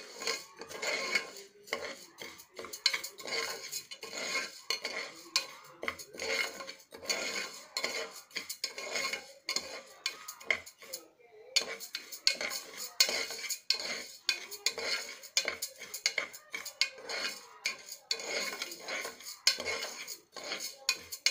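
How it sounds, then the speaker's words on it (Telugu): Lentils stir-fried in a pan as a utensil scrapes and clinks against the metal in quick irregular strokes, with faint sizzling between the scrapes and no talking. "బాగా వేగిన తర్వాత పప్పు పప్పుని బాగా వేపాలండి."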